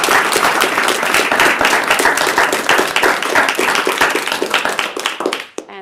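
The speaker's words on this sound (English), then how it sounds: "give Lord David Anderson a huge round of applause" A large audience claps for Lord David Anderson at a counter-extremism reception, producing dense, sustained applause for about five seconds that cuts off abruptly, with no talking.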